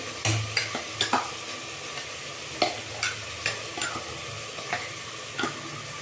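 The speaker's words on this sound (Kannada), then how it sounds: "ಈಗ ನಾನು ಕಾಳು ಸ್ವಲ್ಪ ಬಿಸಿ ಮಾಡಿಕೊಂಡು ಅದಕ್ಕೇ ಈ ಮಸಾಲೆ ರುಬ್ಬಿದ ಮಸಾಲೆ ಹಾಕ್ಕೊಳ್ತಾ ಇದ್ದೀನಿ" Ground masala hitting warmed beans in a pan, a soft steady sizzle broken by a series of scraping stirs and light utensil knocks, close and alone.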